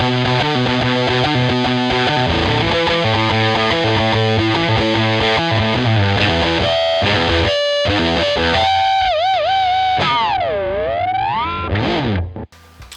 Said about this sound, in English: It's combining the big muff and the overdrive distortion separately and then putting them together.